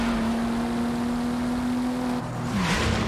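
A car engine in Forza Horizon 5 drones at a steady, even pitch, then briefly dips and recovers as revs shift, loud and continuous throughout.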